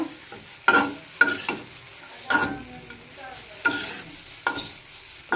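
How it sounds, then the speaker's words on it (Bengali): Coriander leaves frying in a pan for a mashed bharta, a soft steady sizzle broken by repeated sharp scrapes and knocks of a spatula stirring at a loose, irregular rhythm, close up with no voices. "এখন আমি ধনিয়া পাতাটা বাইজা নিতেছি ভর্তা বানানোর জন্য"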